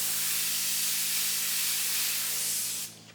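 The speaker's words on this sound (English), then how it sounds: "I'm not going to spray these solid. I'm going to spray them lightly." An airbrush or spray gun lays light gray paint onto background trees with a steady, close hiss that runs for about three seconds and then cuts off.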